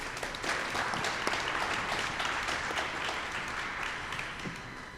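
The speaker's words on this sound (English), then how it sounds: "So if we can get a round of applause for our panelists" Audience applause for panelists at a community forum on policing, a steady, fairly soft roomful of clapping with scattered distinct claps, continuing evenly with no talk over it.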